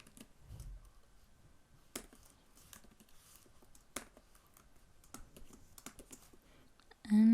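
Code is typed on a computer keyboard in quick, soft bursts of key clicks with a few sharper taps, faint and close, ending in a brief louder sound.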